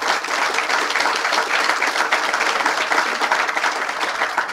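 An audience at the dedication of a Duke marine sciences and conservation genetics center breaks into steady, full applause, many hands clapping continuously at an even level throughout.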